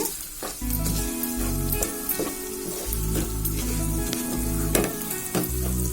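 Half a spoon of roasted, ground fenugreek powder sizzles in a pan for raw tamarind chutney, giving a steady, close frying hiss with faint stirring and a soft tonal hum underneath throughout.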